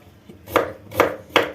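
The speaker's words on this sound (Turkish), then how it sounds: "Ince ince doğruyoruz arkadaşlar." A knife chops food on a board in three crisp, evenly spaced strikes, close and clear with no talking, while preparing filling for stuffed vine leaves.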